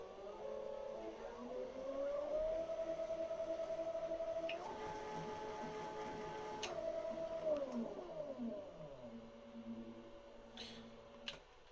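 A DIY X-axis power feed motor on a small milling machine runs alone with a faint electric whine that rises in pitch as it speeds up, holds steady, then winds down again near the end, with light clicks.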